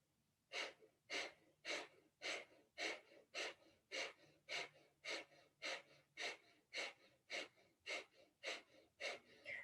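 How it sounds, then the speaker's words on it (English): Rapid, rhythmic Kundalini yoga breath of fire, panting breaths pushed sharply through the nose, about sixteen even bursts, close and steady with no talking. "you can come into breath of fire, panting like a dog through the nose"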